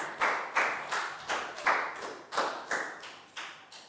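A Year 4 class claps for a pupil in a health lesson: about a dozen sharp, evenly spaced claps in a steady unison rhythm, close and fairly loud, with no talking.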